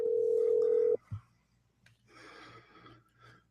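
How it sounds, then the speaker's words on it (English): A telephone dial tone hums loudly and steadily for about a second on a call being placed, then cuts off and leaves faint breathing and quiet room noise on the line. "You're going to dial her up."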